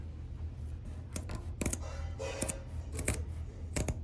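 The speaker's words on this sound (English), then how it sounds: "Once it's all dry, I could cut the edges." Scissors snip along the edges of a dried handmade tufted rug, giving several short, crisp cuts spaced irregularly, close and moderately loud over a low background hum.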